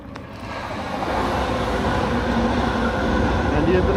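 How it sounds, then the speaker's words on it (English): An international train crosses a huge bridge in the countryside near a small village, with a steady, full rumble of wheels and carriage noise heard from on board, continuous and fairly loud throughout. "international train is crossing this very huge bridge"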